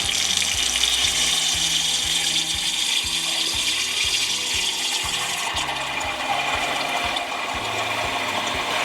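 Cold water runs steadily from a kitchen tap into a pot in the sink for matzah ball soup, a constant close rushing splash with no voices.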